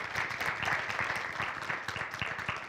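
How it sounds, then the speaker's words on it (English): A board of education meeting audience gives a round of applause, a steady, moderately distant patter of many hands clapping. "Can we give her a round of applause?"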